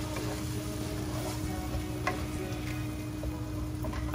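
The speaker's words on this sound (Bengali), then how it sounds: "হাফ কাপ পরিমাণ টমেটো। সবকিছু একসাথে আমরা ভালোভাবে কষিয়ে নেব।" Tomatoes and spices sautéing in a pan for a rui fish curry, giving a steady, moderate sizzle and crackle throughout with no talking.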